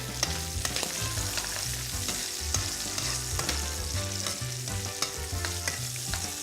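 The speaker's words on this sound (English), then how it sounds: "As you can see that the bacon is rendering down." Bacon and garlic fry in oil in a pan for spaghetti carbonara, giving a steady, close sizzle and crackle with scattered pops throughout, over low background music.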